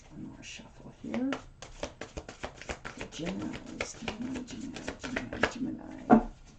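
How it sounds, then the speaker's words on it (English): Tarot cards are shuffled in a quick run of crisp riffling flicks and soft slaps up close, fairly quiet, ending in a sharper tap. "One more shuffle here."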